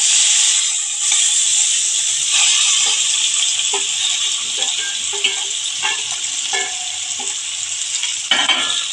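Marinated kajoli fish sizzle loudly in very hot oil in a pan, a dense continuous frying hiss close up with scattered small pops and stirring scrapes throughout, no voices.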